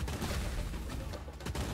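Continuous dense gunfire in the co-op shooter Monsters and Monocles, a loud, cluttered barrage of overlapping shots and impacts with no pauses.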